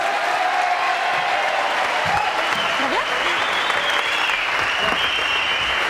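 A French television studio audience applauds in a dense, continuous wash of clapping, with voices and cheers mixed underneath throughout.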